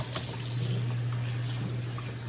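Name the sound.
water being moved around while washing greens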